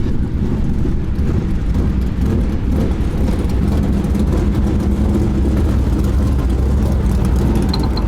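Super late model race cars during qualifying at Lincoln Speedway: a steady, dense engine roar from the dirt oval fills the scene continuously at high volume, with no talking.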